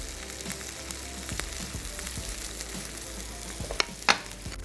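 Coriander powder, garam masala and salt roasting in a pan give a steady soft sizzle with light stirring scrapes, and two sharper clinks near the end.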